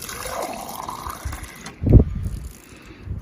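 Water gushes from an UltraSpout on a half-full 5-gallon water cooler into a 16-ounce glass, a quiet trickle swelling into one short loud splash near the end before settling.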